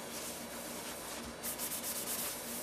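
A guitar body finish being wet sanded with fine grit paper gives a continuous close rubbing hiss, with rhythmic back-and-forth strokes becoming more pronounced in the second half.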